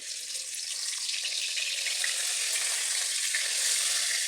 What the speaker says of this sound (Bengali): তেলও এদিকে গরম হয়ে গেছে দেখতেই পাচ্ছেন আমি এর মধ্যে মাছগুলো ভেজে নেব